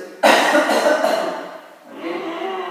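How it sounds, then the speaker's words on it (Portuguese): A sudden harsh cough bursts out after forceful yoga bellows breathing, followed by a rough, breathy tail that fades and then picks up again more softly. "No final, provavelmente você vai tossir."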